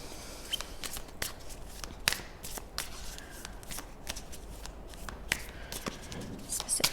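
Oracle cards being shuffled by hand close up, a run of quick riffling flicks and soft slaps in an uneven rhythm, quiet overall with no talking over it.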